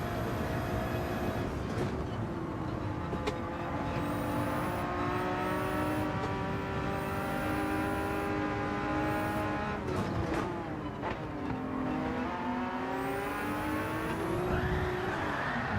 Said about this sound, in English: You just wheel spin your tires on the tar like that.